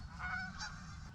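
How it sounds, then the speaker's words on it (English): Geese honk near a small stretch of open water in winter, a few quick nasal calls sounding at a moderate distance over a low background rumble. "I apologize if there's any like background noise of geese."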